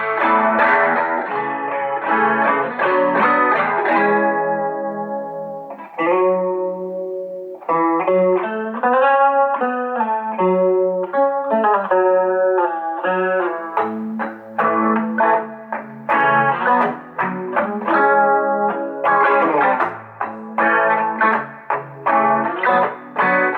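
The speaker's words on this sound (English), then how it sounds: "Let's add a little chorus to it." An electric guitar plays through a Roland Street EX amplifier with a chorus effect, giving a shimmering, doubled tone. Chords and single-note phrases ring out loud and close, with brief pauses between phrases.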